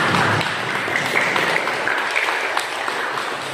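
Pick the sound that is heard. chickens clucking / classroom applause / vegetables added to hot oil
classroom applause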